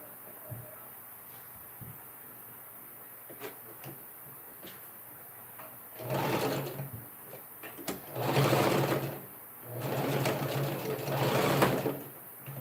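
A sewing machine stitching down Ankara print fabric for a summer top runs in three sustained whirring bursts separated by brief pauses, after a quiet stretch with faint clicks and handling.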